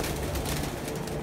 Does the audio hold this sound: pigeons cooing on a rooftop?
yes